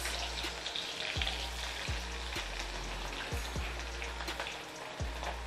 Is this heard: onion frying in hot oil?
yes